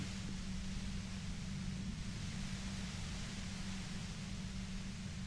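Steady radio-style white noise static hisses without a break from the Disco Elysium video game, broadband and constant, with a low hum band underneath and no voices.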